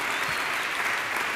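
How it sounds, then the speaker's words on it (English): Continuous, even applause from a festival audience for an author after his talk, heard as a steady wash of clapping throughout the short moment. "Let's get another round of applause for our speaker today."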